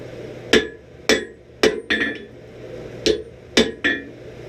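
Sharp metallic hammer blows ring out one at a time while forging a chunk of iron into a hammer head, seven strikes in a loose irregular rhythm, each with a bright clanging ring over a low steady hum.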